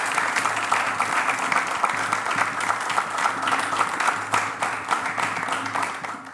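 Sustained applause from a regional choir acclaiming the Lord at a church gathering, dense steady clapping filling the whole span at close range with a lively, even texture and no talk over it.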